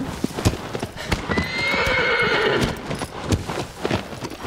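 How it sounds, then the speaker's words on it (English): Horse Agro in the PlayStation 2 game Shadow of the Colossus (2005), hooves clip-clopping at a gallop with a drawn-out whinny rising through the middle, fairly loud and alone with no talk. "the horse's name is Agro"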